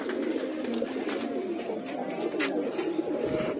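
Foster pigeons kept in a home loft coo in a dense, steady low murmur, many birds overlapping close by without a break and with no speech.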